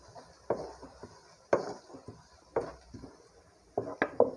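Round-cut tomatoes dropped into a cooking pot of spiced rice pilaf, heard as several soft thuds and clinks against the metal, evenly spaced and close by, with no talking.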